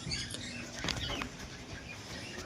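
Pigeons in a loft flutter their wings in a brief, soft burst of flapping, with light scratchy movement around it in a quiet space.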